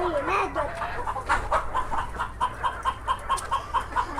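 A young rooster clucking in a run of short, evenly spaced calls near the listener, with faint background noise and no talk over it.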